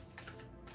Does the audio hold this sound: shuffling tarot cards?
yes